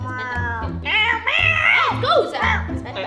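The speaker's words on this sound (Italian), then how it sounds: "Ecco qua, gatta" Cat meowing and yowling angrily, a drawn-out low growl followed by several loud rising and falling meows close by, with faint background voice in between.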